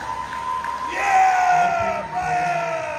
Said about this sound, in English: Everyone give Brian Danzig a big round of applause.